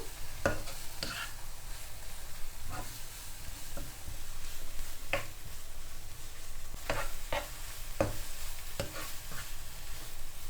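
Carrots and other vegetables being stir-fried in a pan for Sri Lankan vegetable rolls, with a steady sizzle broken by repeated sharp scrapes and taps of the stirring utensil.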